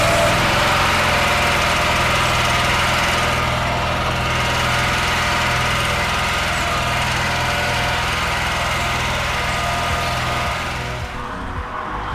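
A pressure washer engine runs continuously at reduced pressure while chemical is sent through the main lines to a foaming nozzle, a steady close mechanical drone with a faint dip near the end.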